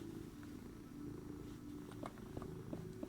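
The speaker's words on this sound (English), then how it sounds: "Yeah, I do hear you purring." A cat purrs in a steady, low rumbling drone close by, quiet, with a few small rustling clicks.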